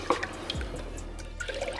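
Fragrance oil, 2.2 ounces, poured into 42 ounces of candle wax, giving a faint, close trickle and soft liquid dribbles over a quiet low hum.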